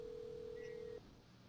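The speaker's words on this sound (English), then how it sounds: "My cell phone number is now ringing." A cell phone rings on an incoming call routed through a business phone system, a steady electronic ring tone that plays for about a second and then stops, leaving a quiet room.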